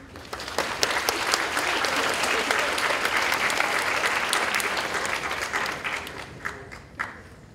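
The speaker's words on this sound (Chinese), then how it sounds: "用最热情的掌声欢迎陈文茜陈老师以及施明德施" An audience at a university lecture applauds warmly to welcome Chen Wen-chien and Shih Ming-teh, dense sustained clapping that thins out into a few scattered claps near the end.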